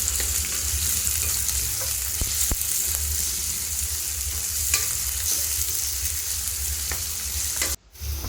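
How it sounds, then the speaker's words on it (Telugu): Thinly sliced onion and green chilli sizzling in oil for an Andhra-style chicken drumstick curry, a dense, steady frying hiss with stirring scrapes and a short drop near the end. "ఇప్పుడు ఆయిల్లోకి మనం సన్నగా కట్ చేసి పెట్టుకున్న ఉల్లిపాయ, పచ్చిమిర్చి ముక్కల్ని వేసుకొని బాగా కలుపుకోవాలి."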